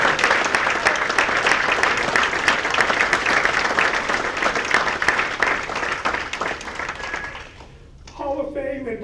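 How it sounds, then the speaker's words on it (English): Sustained applause from a large audience honouring the 2025 St. John's Hall of Fame inductees at an evening ceremony, steady and loud for about eight seconds before dying away, then a voice speaks briefly. "Let's have one more round of applause for our 2025 St. John's Hall of Fame"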